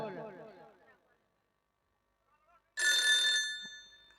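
An old-style telephone bell rings in a short loud burst during a Maithili-Angika stage nautanki play in Bihar, following a voice and a pause of near silence.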